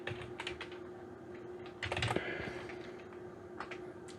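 Quick bursts of keystrokes on a computer keyboard while renaming a sketch in Fusion 360, the taps coming in short irregular clusters with a brief louder flurry midway, close and fairly quiet.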